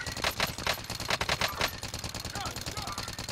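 Automatic gunfire in the video game Warzone, rapid pulsing bursts of shots close by, steady and loud, with a short game voice line heard over it.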